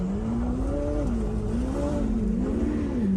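A $400k Ferrari driving over a gravel road, its engine holding a steady droning note with small rises and dips in pitch over continuous loud road and gravel noise, close and uninterrupted for the whole stretch.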